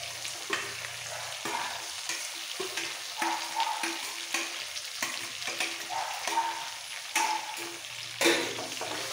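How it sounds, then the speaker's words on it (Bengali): Mustard and poppy seed paste masala for sukto frying in a pan, a steady close sizzle broken by repeated scraping stirs of the spatula at an uneven rhythm, with no voices. "এবার মশলাটা একটু কষিয়ে নেব।"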